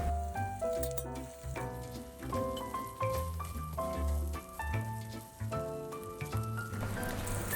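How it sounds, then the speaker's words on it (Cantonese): Bean paste with a spoonful of sugar and a little salt fries in a hot pan for Nyonya mee siam, a continuous crackling sizzle with bright tonal sounds layered over it. "熱咗之後就可以放豆醬同埋1湯匙嘅糖同埋少少嘅鹽"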